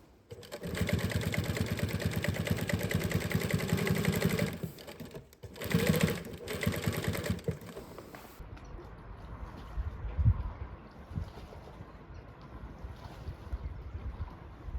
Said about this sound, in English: dug out the old sewing machine and Mom sewed a new one on